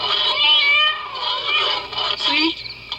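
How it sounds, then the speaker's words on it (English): A cat with a tin can stuck on its leg meows in several wavering, sliding cries over a low steady hum, from an animated 1976 Sesame Street filmstrip. "I knew it was only a cat with a tin can stuck on its leg"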